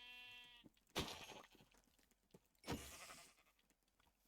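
A Minecraft sheep bleats with a harmonic, wavering cry, followed by two short bursts of noisy rustling and thumps, fairly close with a quiet background.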